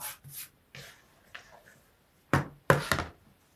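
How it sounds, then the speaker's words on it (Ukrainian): Soft dough for sweet buns dropped and slapped onto a wooden board, a few dull padded thumps and knocks spaced apart, close and fairly quiet. "Пішло тістечко викладаю його на доску"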